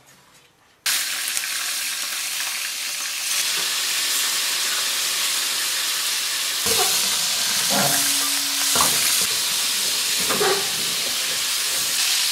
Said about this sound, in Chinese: 油温烧到七成热的时候，我们就可以下螃蟹煎一下